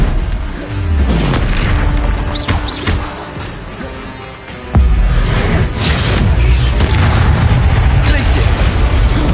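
Confringo fire spell explosions in Hogwarts Legacy: loud booming blasts and whooshing bursts with crashing impacts over dense game noise, a big explosion midway, while a player shouts spell names throughout.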